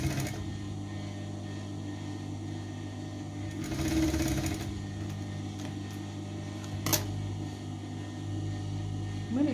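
A sewing machine stitches a ruffle onto a dress in a steady mechanical whir with a brief louder burst partway through, close and continuous, with no talking.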